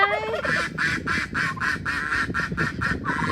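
A duck quacks nearby in a quick, steady series of about nine loud, nasal calls, each evenly spaced and clearly heard.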